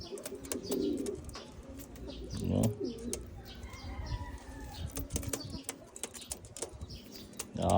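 Pigeons coo nearby in low, soft bursts during free flight recall training, mixed with fluttering wing flaps and occasional chirps and clicks.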